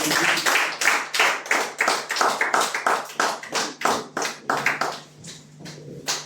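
A church congregation claps together in a steady rhythmic beat, dozens of quick claps close and clear, tapering off near the end.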